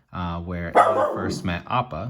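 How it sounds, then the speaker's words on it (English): A pet dog named Coco barks repeatedly indoors, several sharp yaps in quick succession close by, mixed in with a person talking over it. "Please excuse my dog in the background."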